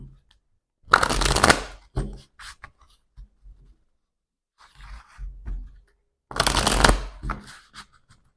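Oracle cards being shuffled for a tarot reading, two crisp riffling bursts at the start and near the end, with softer card handling and someone speaking in between.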